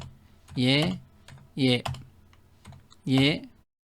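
A computer keyboard in use, a few light keystroke clicks spaced between short spoken phrases, the voice louder than the keys.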